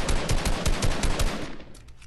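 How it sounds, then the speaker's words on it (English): Bursts of enemy gunfire in Fortnite, a quick run of punchy shots that trails off into fainter, more distant cracks toward the end. "But this northeast team shooting at me"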